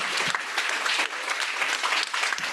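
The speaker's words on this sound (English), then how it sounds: "I would ask you to thank our colleagues and our presenters today with a warm round of applause" Conference audience applauding presenters at a social justice law event, a dense steady wash of many hands clapping at close range for a few seconds, with no talk over it.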